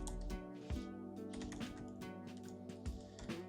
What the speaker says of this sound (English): and you can start typing.